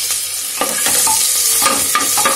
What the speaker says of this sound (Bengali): রসুনটা তেলের মধ্যে ভালো করে নাড়াচাড়া করব।